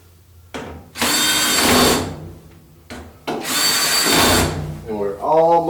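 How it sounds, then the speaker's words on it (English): A power driver runs in two long whirring bursts, tightening screws during reassembly of a Kenmore 90 series or Elite dryer, close and loud, with a short pause between bursts and someone speaking briefly at the end. "got all 3 of those screws in place. Let's go ahead and lock them down."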